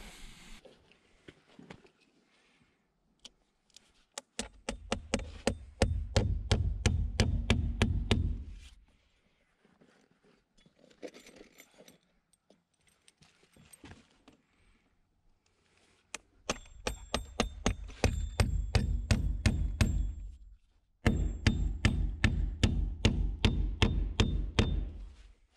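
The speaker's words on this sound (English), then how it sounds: "I'll nail it every foot, but every other, it'll be one of those 20 penny 4 inch stainless steel" Stainless steel nails, 20 penny 4 inch and 3 inch, are hammered through foam board insulation on a foundation in bursts of rapid, loud, close blows, with pauses and a few quieter taps between runs.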